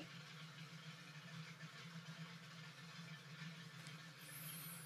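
A Grumman aircraft's engine idles at about 550 RPM in Microsoft Flight Simulator, giving a low, steady droning hum with faint higher whine, continuous and even throughout.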